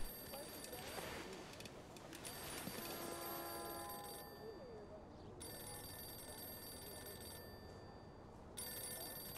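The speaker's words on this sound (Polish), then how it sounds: "Gdzie ja mam telefon w tej chacie? Gdzieś tu dzwoni." A telephone rings inside a house in the video game Mafia II, repeated bell-like trills over a low background of game ambience, fairly faint with a few quieter gaps.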